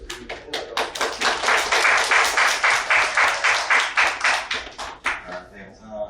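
Audience applause welcoming Professor Lee Sang-min to a chemical engineering lecture on the Nobel Prize in Chemistry, a dense burst of hand claps that swells quickly, holds steady and fades out near the end.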